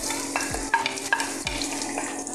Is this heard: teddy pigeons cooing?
no